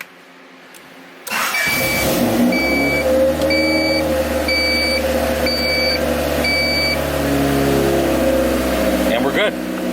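A Honda Civic engine cranks and catches, then settles into a steady idle, with a series of short electronic beeps chiming over it.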